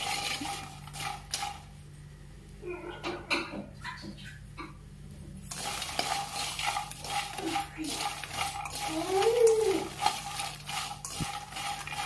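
Makhana (fox nuts) being dry roasted in a pan over a low flame, with a spoon stirring and scraping in soft, irregular scrapes and light rattling of the puffs against the metal, close and fairly quiet.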